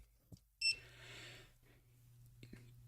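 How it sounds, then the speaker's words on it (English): A timer alarm goes off indoors with a short, high electronic beep, faint against a steady low hum, then some quiet handling noises and soft clicks follow. "That's my timer going off."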